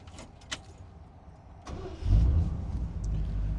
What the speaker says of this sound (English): Starts up easy.